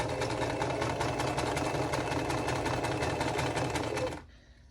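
A sewing machine stitching a quilt block in a steady, fast, loud mechanical whir with rhythmic needle clatter, running continuously before stopping abruptly near the end.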